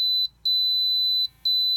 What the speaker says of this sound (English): That 4 beeps in the motor that you heard intermittently are to represent a forklift